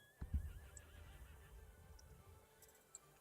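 A horse in the video game Star Stable Online gives one short neigh near the start, quiet and in a winter village setting, followed by faint hoof clip-clops and soft ambient game sounds.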